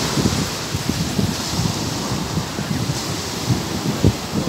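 Surf at a Zambales break rolls and washes in a continuous roar, heavy low rumbles and thumps of breaking waves mixed with strong wind buffeting the microphone.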